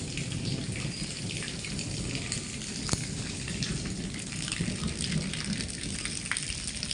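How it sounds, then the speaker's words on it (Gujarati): Heavy rain pours steadily on a farm during a storm, a dense, continuous hiss of drops striking surfaces close by, with one sharp louder hit near the middle and no voices. "જે વરસાદ વાગે છે"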